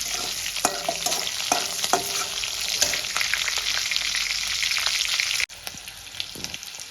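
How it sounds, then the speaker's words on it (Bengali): Whole spices for tempering fry in hot oil with a steady, dense sizzle and crackle that is loud and close, with a few stirring clinks, before it abruptly drops lower near the end. "ফোড়নটা আমার ভাজা হয়ে গেছে।"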